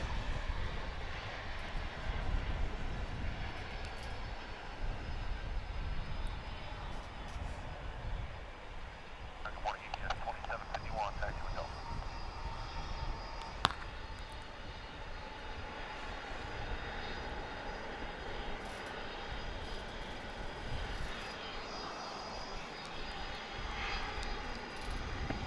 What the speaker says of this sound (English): And here comes the MD-11 marching out. This one's going to turn and burn, I think.